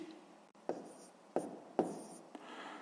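Hand-writing a fraction for a 6th-grade maths exercise: four short, distinct pen-on-paper strokes spaced evenly over a quiet room background, close and moderately soft, with no talking.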